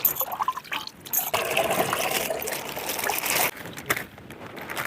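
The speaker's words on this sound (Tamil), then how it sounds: "ஊற வச்ச புளியை நல்லா கரைச்சி எடுத்துக்கலாம்" Soaked tamarind squeezed by hand in a bowl of water, giving wet squelching and sloshing in uneven bursts, close and fairly loud, with brief pauses between squeezes.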